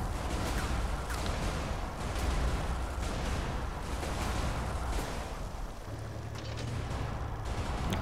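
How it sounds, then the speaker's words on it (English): In iBomber Defense Pacific, a backup cannon fires amid the game's battle noise, giving dense, repeated booming blasts and clattering mechanical sounds that run throughout. "that backup cannon is helping against the sneak attack that came in"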